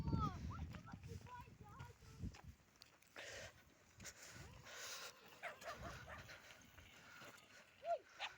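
Dogs near a quarry bark, yip and whimper close by, with footsteps. People talk in between the barks.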